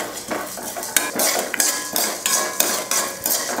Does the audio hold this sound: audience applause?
no